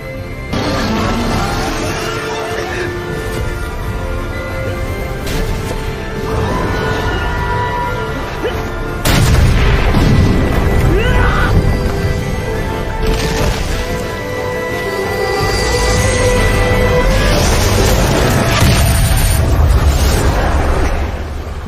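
A 'Fire Bullet' attack explodes in a Hindi-dubbed anime movie: loud, sustained blasts and crashing rumble fill the scene, swelling again midway and near the end, with faint voices in the mix.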